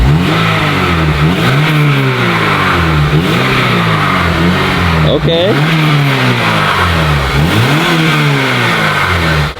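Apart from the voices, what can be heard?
Honda Civic Si stock exhaust revving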